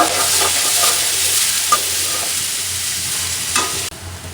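Onions sizzle steadily in a little hot oil in a pan, close and loud, with occasional scrapes of a spoon stirring them before the sound cuts off near the end.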